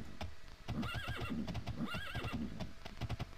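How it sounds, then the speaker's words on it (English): A horse in the video game Elder Scrolls Daggerfall whinnies twice in loud, wavering neighs while its hooves clop steadily underneath, close and clear. "Shut up, you stupid horse."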